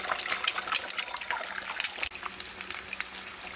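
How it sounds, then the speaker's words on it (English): Steady sizzling and crackling of eggs frying in a hot pan for huevos rancheros, with small pops throughout and a brief clink partway. "I'm gonna start frying the eggs"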